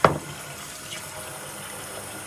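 Water runs from a bathroom sink tap during a face-washing routine, a steady, moderately quiet splashing flow after a brief louder burst at the start, with no voices heard.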